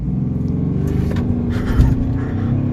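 A 2015 VW Polo 1.4 TDI engine roars loudly at high revs during an acceleration run, a dense, steady drone with harmonic buzz, heard from close inside the car.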